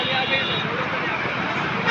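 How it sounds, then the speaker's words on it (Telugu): Busy Hyderabad road traffic with a dense, steady roar of vehicles and bus noise, car horns tooting within the constant wash, with a voice talking over it. "ట్రాఫిక్ ఉంది ఇక్కడ"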